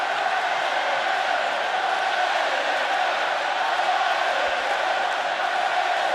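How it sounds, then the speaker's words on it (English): Rugby stadium crowd in France in 2009 roars in full voice, a dense, sustained wall of cheering and shouting that stays loud and steady throughout. "but the crowd in full voice"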